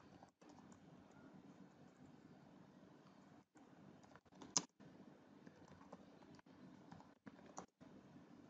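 Soft typing on a computer keyboard, faint and close, with scattered light key taps over a low room hiss and no talking.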